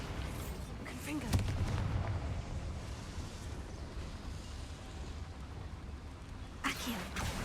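A Confringo fire spell goes off in Hogwarts Legacy, a booming blast under ongoing game noise, with a second burst near the end.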